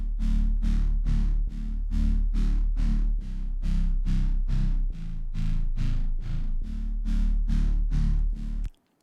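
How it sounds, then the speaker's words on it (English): A Serum synth wobble bass, distorted and widened by a dimension expander, pulses in rapid, even rhythmic throbs for about nine seconds, loud and alone before cutting off abruptly. "let's hear just that bass on its own"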